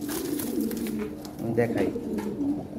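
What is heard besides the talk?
Lahori Shirazi pigeons cooing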